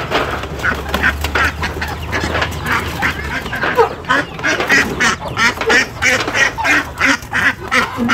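Ducks quack loudly and close by in quick, choppy bursts, with a low hum underneath for the first few seconds and nobody speaking.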